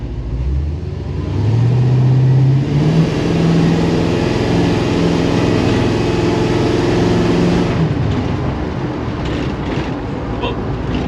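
1956 Chevy wagon with Holley fuel injection on its first drive, the engine revving up through a rising pitch, then holding a loud, rough roar with wind buffeting before settling down near the end.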